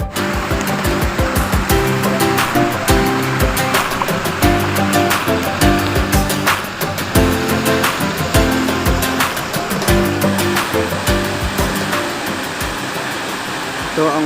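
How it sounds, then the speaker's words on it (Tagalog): Ba-Haw Falls waterfall in Gigmoto, Catanduanes, a steady, dense rush of falling water close by, constant and broadband throughout, with a few sharp knocks and faint voices underneath. "Ito ang Ba-Haw Falls dito sa Gigmoto, Catanduanes."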